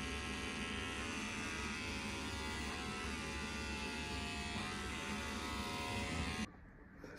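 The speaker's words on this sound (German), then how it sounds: "Die Beine müssen natürlich rasiert werden." Electric razor buzzing steadily while shaving a cyclist's bare legs, a close, continuous motor drone that cuts off abruptly near the end, no talk.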